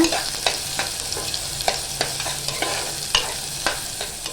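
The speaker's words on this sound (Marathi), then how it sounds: "कांदा आणि तेजपत्ता आहे ना व्यवस्थित असं परतून घेऊया" Chopped onion and bay leaf are stirred and sautéed in hot oil in a pressure cooker for Malvani mutton curry, a continuous close sizzle punctuated by regular spoon scrapes and taps against the pot.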